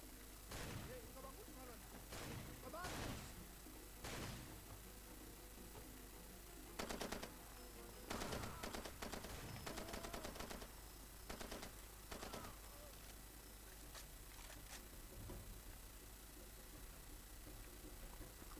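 Gunfire from the video game Far Cry 2 crackles in repeated bursts and scattered single shots, some distant, some closer, over a steady low background hum.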